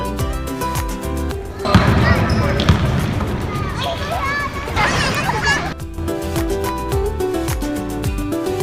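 A ball bounces in a quick series of thuds over cheerful background music and a voice.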